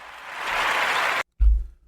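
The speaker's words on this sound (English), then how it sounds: "So we give a great round of applause for the great" Applause for Steph Curry, a burst of canned-sounding clapping swelling for about a second, then cutting off abruptly into a brief low thump.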